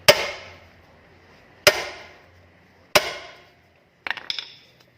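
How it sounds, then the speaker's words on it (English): A hammer strikes a driver bit to loosen a rusty rear brake screw on a 2008-2017 Honda Accord, giving three sharp metallic blows with ringing decay, then a quicker pair of lighter taps. "every time you hit it, the screw turns slightly"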